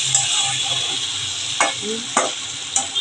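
Papaya and prawn ghonto sizzles steadily in an oily pan while being stir-fried, with a few sharp spatula scrapes breaking through the constant frying hiss.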